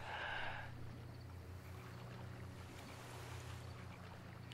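Swimming through water in the Far Cry video game, a steady low watery wash and churn with a brief brighter splash at the start, faint and continuous.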